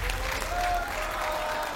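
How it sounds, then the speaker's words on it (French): Studio audience applause on the TV game show Still Standing in France, a brief, moderately faint wash of clapping with a short tone heard partway through. "On va applaudir notre copine, la très jolie coach sportive."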